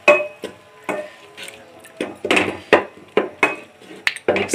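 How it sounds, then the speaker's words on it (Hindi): Whole spices, a cinnamon stick, red chili, turmeric and salt, are stirred in a pot with repeated scraping and knocking strokes in an uneven rhythm, close and fairly loud, with no talking. "ये भी चीज़ें सारी अब इसमें डाल दूँगी, डाल दी हैं मैंने, अब मिक्स कर लूँगी।"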